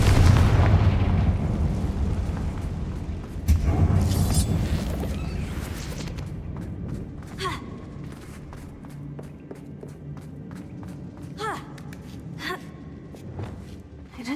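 Fire spell explosions crack and boom during combat in Hogwarts Legacy, with a heavy blast near the start, another around three and a half seconds in, and scattered bursts and impacts trailing off later.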